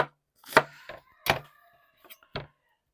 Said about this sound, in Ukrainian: Так, цибулю я ріжу отакими півкільцями.